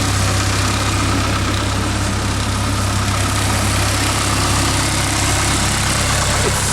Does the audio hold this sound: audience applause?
no